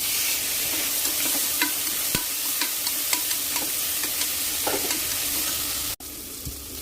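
Tomatoes sauté with ginger-garlic in a pan, a steady sizzle broken by regular light clicks of a spoon stirring against the metal, close up, with a sharp knock near the end.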